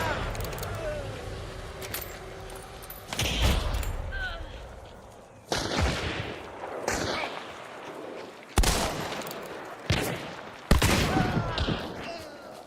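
Gunfire in a shooting video game, several sharp bursts and booms spaced a few seconds apart, each decaying quickly, with voices talking faintly between shots.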